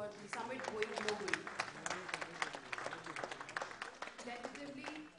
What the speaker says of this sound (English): A round of applause for the summit going global.